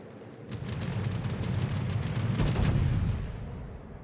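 Naval guns firing in the World of Warships game, a deep rumbling salvo with a cluster of sharp reports that builds, peaks and then trails off.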